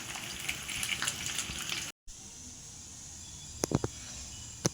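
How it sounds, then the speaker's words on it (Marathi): Raw mangoes, tomatoes and chillies simmer in a pot over a low gas flame, giving a continuous soft bubbling hiss, broken by a brief cut and then a few light clinks near the end. "मंद गॅसवर 10 ते 15 मिनटं याला आपण उकडून घेऊया."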